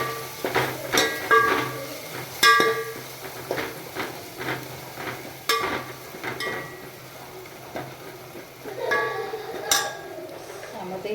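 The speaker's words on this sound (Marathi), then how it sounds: "गरम मसाला, लाल तिखट आणि हळद हे सगळं टाकणार आहे. छानपैकी परतून घेणार आहे." Garam masala, red chili powder and turmeric are sautéed in a pan for masale bhaat, with a faint sizzle beneath repeated spoon clinks and scrapes against the pan.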